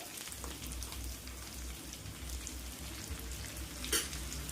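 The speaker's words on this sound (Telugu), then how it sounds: "మనం చికెన్ అయితే ఒక ఐదు నిమిషాలు కలుపుతూ వేపుకున్నాం" Chicken fries in a pan for a gonguura chicken fry, giving a dense, steady sizzle close up, with a low rumble underneath and one brief louder clatter near the end, and no voices.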